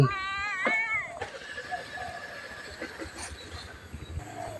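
Cats meowing at a Buddhist temple in Lampang, Thailand: a couple of clear, fairly close meows at the start, followed by quieter ambient noise with faint chirps.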